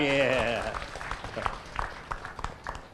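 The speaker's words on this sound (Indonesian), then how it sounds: "Tepuk tangan yang meriah." A voice speaks briefly at a Posdaya community event in Magelang Regency, then scattered audience clapping follows, light and uneven, at moderate distance.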